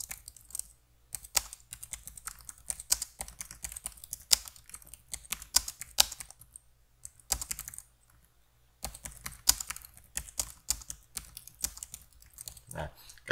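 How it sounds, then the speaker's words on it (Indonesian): Rapid typing on a computer keyboard while working in Microsoft Word 2019, with bursts of close clicky keystrokes broken by short pauses and a low background hum. "kalian ketik saja apapun, maka dia akan membuat baris baru"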